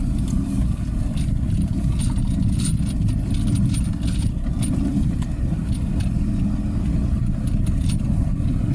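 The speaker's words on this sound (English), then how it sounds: "We're going to go back into first. Just drive down the shoulder here a little bit, hit these bumps." A Jeep with a manual transmission driving slowly in first gear along a road shoulder over bumps: a steady loud engine drone with road rumble and faint rattles and clunks on top, no talk.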